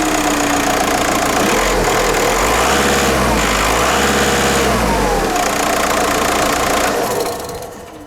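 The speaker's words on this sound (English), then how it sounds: "you might want to start the engine, just check everything fires as it should" A VW Eos 2.0 TDI diesel engine fires up and settles into a loud, steady, clattery idle close by, then cuts off abruptly near the end.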